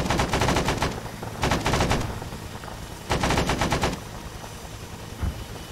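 M60 machine gun in the Arma video game firing three sustained automatic bursts, loud and close, with short pauses between them and a low battlefield rumble underneath.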